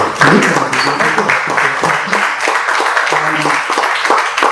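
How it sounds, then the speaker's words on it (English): Luncheon audience at a pub and steakhouse applauding, a dense wash of clapping running steadily throughout with some crowd murmur mixed in. "first of all, round of applause for"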